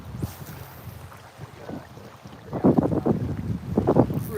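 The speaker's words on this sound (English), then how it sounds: "even though it is quite windy out" Wind blows hard outdoors at a riverside fishing spot at night, a steady rushing roar with gusting buffets on the microphone that swell louder in the second half.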